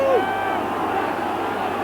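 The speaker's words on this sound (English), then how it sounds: "the crowd really getting behind the Munstermen" Rugby crowd at a 1992 Munster versus Australia test match, a steady broadband roar of cheering and hubbub with a brief whistle-like tone at the start, a commentator's voice running over it.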